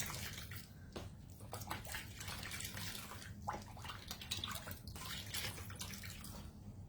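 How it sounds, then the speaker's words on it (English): A small eraser rinsed in a cup of water, giving close, irregular sloshing and splashing with quick drips and soft knocks against the cup, steady for several seconds with no talking. "It gets on my little eraser, but I can rinse it out in the water and it'll come out of the eraser."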